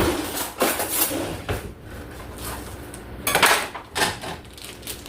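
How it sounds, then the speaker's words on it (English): A knife grabbed in a kitchen while cooking hamburger for enchiladas, with several close metallic clinks and clatters of cutlery and dishes at irregular intervals, no talk. "Now, I'm gonna grab a knife."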